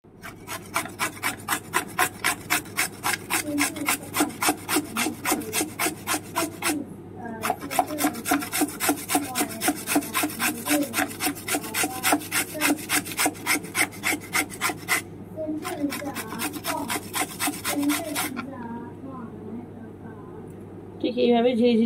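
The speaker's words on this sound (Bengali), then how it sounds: "তো চলো ঘষুনি দিয়ে ঘষে নেওয়া যাক।" Raw papaya rubbed against a hand grater in quick even strokes, a close scratchy rasp repeating in long bursts with brief pauses between them.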